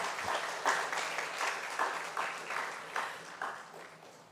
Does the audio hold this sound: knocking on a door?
no